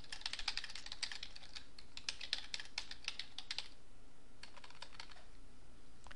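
Quick, light keystrokes on a computer keyboard come in a dense burst, pause briefly, then resume in a shorter run, close and clear with no talking.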